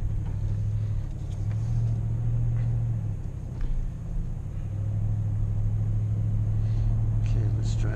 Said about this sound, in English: Okay, let's drive up the road.